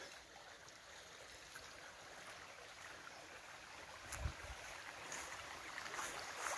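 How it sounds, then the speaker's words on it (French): A small wild stream in a quiet rural spot makes a faint, steady trickling wash, with one brief low knock partway through. "Le petit cours d'eau avec le bruit qui va bien."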